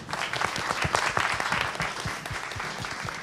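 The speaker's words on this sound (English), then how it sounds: "thank you all the panelists that give a round of applause" An audience gives a round of applause for panelists at the end of a pitching stage discussion, lively close clapping with distinct individual claps rising and then tapering off.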